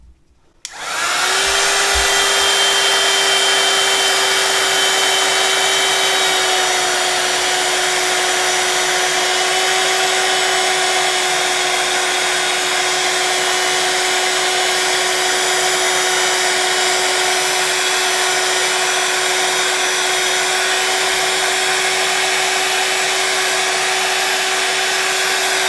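Heat tool melting embossing powder on a stamped card, switching on with a short rise and then blowing as a loud, steady whirring hum with a constant tone that runs without a break.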